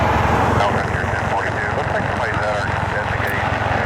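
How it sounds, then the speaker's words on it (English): United Boeing 737 MAX 8 airliner inbound from Houston, arriving at Cleveland Hopkins International Airport, its jet engines a loud, steady broadband roar close by, with talk over the noise. "United 1960, a 737 MAX 8 inbound from Houston."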